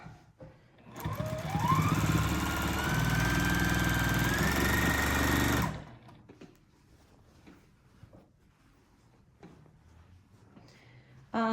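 A sewing machine doing free-motion quilting runs steadily at high speed for about five seconds, then stops, leaving quiet shuffling and faint handling sounds.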